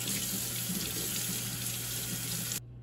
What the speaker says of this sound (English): This piece does not look real dirty, so I'm just going to rinse it off.